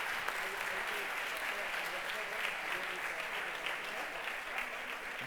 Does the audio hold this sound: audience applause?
yes